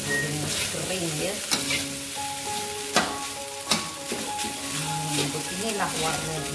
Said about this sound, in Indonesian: Nah, begitu nanti saya memasak nasi goreng ya.